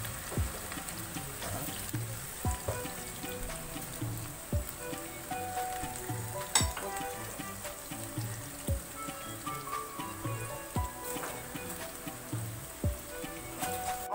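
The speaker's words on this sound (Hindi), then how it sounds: "और भिंडी फ्राई करने के लिए रख दी है" Okra (bhindi) coated in gram flour fries quietly in oil, a steady soft sizzle with faint pops and crackles throughout, no voices.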